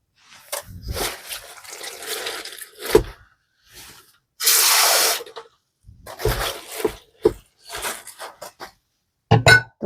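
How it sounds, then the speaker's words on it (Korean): Water is sprinkled over cut napa cabbage being salted for a fresh kimchi, coming as scattered splashy bursts with one louder sustained rush in the middle and quieter handling sounds around it. "물기가 없어가지고 물 좀 뿌려가지고"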